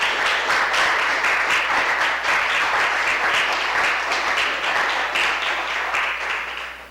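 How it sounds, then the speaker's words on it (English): Warm, steady applause from an audience in a black-box arts venue welcoming a speaker, dense clapping that holds at full strength throughout and fades slightly at the very end, with no talk over it. "So with you tonight, with a warm applause, Ms. Annalie Davis of Fresh Milk, Barbados."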